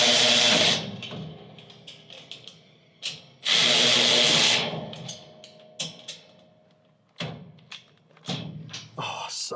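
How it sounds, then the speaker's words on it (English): An electric ratchet whirring in loud bursts while fitting a rear setup on a Nissan Patrol GQ, with two long close runs and shorter spurts separated by clunks and handling noises. "I get to use a electric ratchet"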